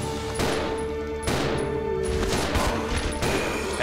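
Gunfire in Resident Evil 0 HD Remaster crackles in loud, repeated bursts over steady game noise, several sharp shots close together across the clip.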